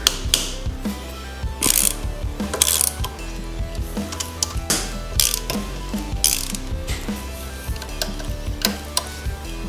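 A hand ratchet loosens the front wheel bolts on a motorcycle, giving a close, loud, rapid clicking in repeated bursts of strokes with short pauses between them.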